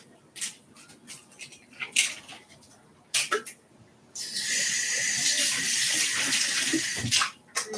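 Tap water gushes steadily into a basin to fill water for pet hamsters, starting abruptly after a few scattered knocks and clatters and running loud and continuous until a brief break near the end.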